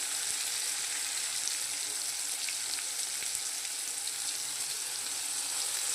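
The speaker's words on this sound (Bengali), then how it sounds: "এবার আমি মশলাটাকে দিয়ে দিচ্ছি।" Spices hit frying tomatoes in a pan while cooking bhetki fish kalia. A dense, steady sizzle crackles close and loud for the whole stretch, with no voices.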